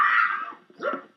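A puppy playing with a child gives a short, close whine followed by a second higher yelp, both brief and fairly loud.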